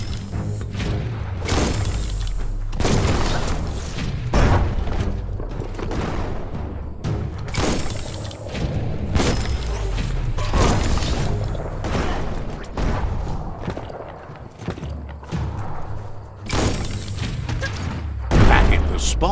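Heavy explosions and thuds from a bomb-lobbing enemy in Biomutant, sharp booming blasts repeated irregularly amid combat clatter and mechanical noise, loud and close.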